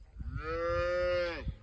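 A single long, full moo from an Angus cow on a fall-calving pasture with heifers and calves, close and loud, rising and then falling off, alone over faint background noise.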